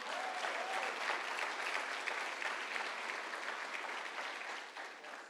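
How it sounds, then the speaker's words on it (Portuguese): Church congregation applauding during a sermon, a dense, even wash of many hands clapping together, sustained for several seconds at moderate distance and fading slightly at the end. "Você pode aplaudir o Senhor Jesus?"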